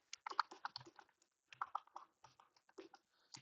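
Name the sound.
typing on a computer keyboard in the nano editor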